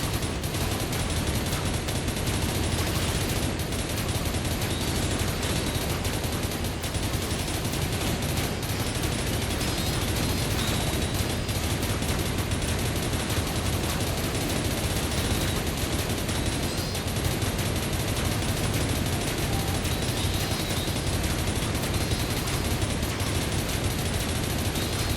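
Dense, continuous gunfire from a video game battle against enemies, a loud unbroken barrage of rapid shots with no pauses.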